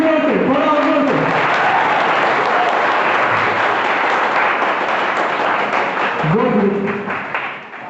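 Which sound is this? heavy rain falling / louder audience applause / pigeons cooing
louder audience applause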